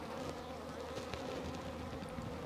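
Honeybees at an open hive during a brood-frame inspection make a dense, continuous buzzing that sounds close and steady throughout, with no talking.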